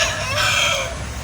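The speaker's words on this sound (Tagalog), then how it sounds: "ating alagang manok." A backyard chicken clucks and calls close by in a short continuous burst, loud against faint outdoor background noise.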